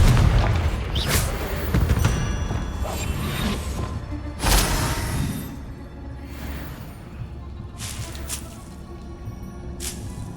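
Confringo fire spell blasts in the Hogwarts Legacy video game: several sharp booming bursts with whooshing tails, one heavy impact near the middle, then softer crackling hits spread through the rest, under steady game ambience.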